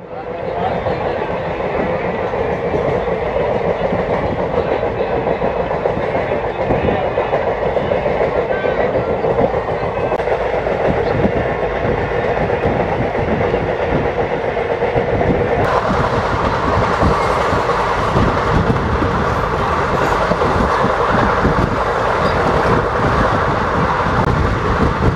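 An express train running from Kolhapur to Nagpur via Parbhani rumbles steadily on the rails, with a continuous loud roar and faint clatter that persists throughout.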